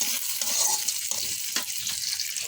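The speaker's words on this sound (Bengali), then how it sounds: "ভালো করে লাল লাল করে ভেজে নিতে হবে পেঁয়াজ আর রসুন" Onion and garlic frying in a pan until reddish-brown for a regional home-cooked dish, with a steady close sizzle and occasional stirring scrapes and no talk.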